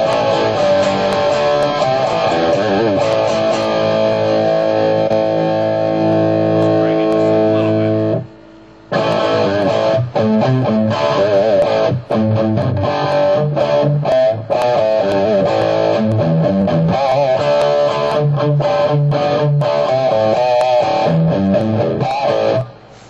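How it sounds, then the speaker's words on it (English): A guitar plays through a Digitech GNX1 modeling the British Stack, a Marshall JMP 2203 amp. The tone is crunchy and distorted, with sustained chords, then a brief pause, then choppy riffing and single-note lines, loud and up close. "JMP 2203, the one that came right before the JCM 800, and it sounds like this."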